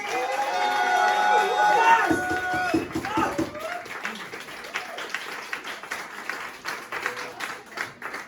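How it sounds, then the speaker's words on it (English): A comedy club audience bursts into applause and cheering as a comedian comes on stage, a dense clapping wash that swells loudly then thins into scattered claps, with voices and a host talking over it. "Please put your hands together for John Campbell"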